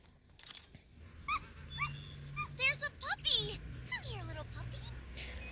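High-pitched dog whimpers and yips in a short series in the video game Doomsday: Last Survivors, heard over a low steady hum with a faint voice in the background.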